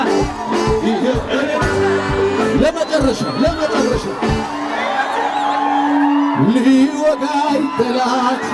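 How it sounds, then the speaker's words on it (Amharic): A church congregation ululates in high, wavering trills, layered over crowd babble and a pulsing rhythmic backing that stays loud and full from start to finish. "ይኸው እልልታ ለመጨረሻ"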